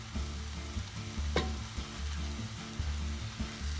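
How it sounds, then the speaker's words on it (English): Green shakshuka sauce of cilantro and spinach simmering in a pan, a soft steady bubbling and sizzle with a faint clink partway through, quiet and close with no voices. "So we'll simmer this down a little bit before we put our eggs."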